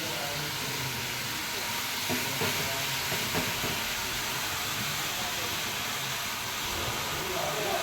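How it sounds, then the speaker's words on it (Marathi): Continuous crackling sizzle as wild mushrooms with garam masala are stirred in a hot oil tempering, Konkan style, with faint scraping, steady and close throughout. "फोडणीमध्ये ते मिक्स केलं"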